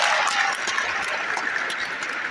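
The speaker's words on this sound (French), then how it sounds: "Je vous dis encore merci et applaudissez mon personnel" An audience at a university graduation ceremony applauding the staff, a dense, steady wash of clapping from many hands, close and fairly loud for the whole moment.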